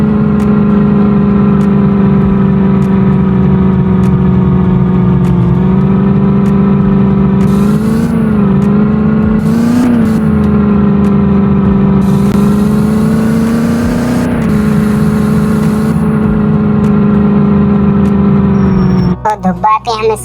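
A black Scorpio car drives off, its engine holding a steady, loud drone from inside the cabin for the whole stretch, with some talk over it and a brief clatter at the end.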